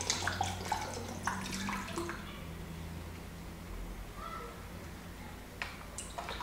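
Liquid poured into a jug while mixing greywash tattoo ink, a soft continuous trickle with a few small knocks and splashes at the start, fairly quiet and close.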